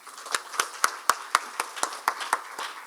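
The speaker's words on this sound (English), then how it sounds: "can we give them a good applause?" An audience at a pharmaceutical society conference in Kenya claps in a quick, even rhythm of sharp hand claps, close and clear with no talk over it.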